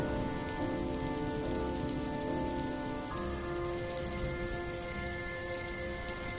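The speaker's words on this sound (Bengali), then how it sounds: "বৃষ্টিটা দেখছি আরো বাড়ছে।" Heavy monsoon rain from a Bengali cartoon scene, a steady, dense hiss of drops pouring on surfaces, loud and continuous throughout with a faint tonal music bed underneath.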